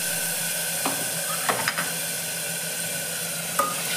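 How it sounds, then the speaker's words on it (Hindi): Tomato paste fries in hot oil for chole, a steady close sizzle with faint hiss, broken by a few brief scraping stirs and knocks, with no voices. "तेल हमारा गर्म हो चुका था, उसमें हमने टमाटर का पेस्ट डाल चुके हैं"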